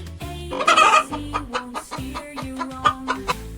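A hen clucking in a string of sharp, close, bright clucks with a short crowing-like call among them, clear and loud with no talk.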